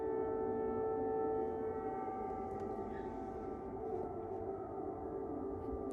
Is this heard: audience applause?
no